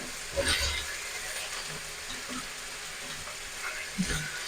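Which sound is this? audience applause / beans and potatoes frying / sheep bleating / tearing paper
beans and potatoes frying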